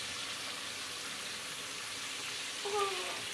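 Fish frying in oil in a home kitchen pan gives a steady, soft sizzle throughout, with a brief brighter crackle near the end.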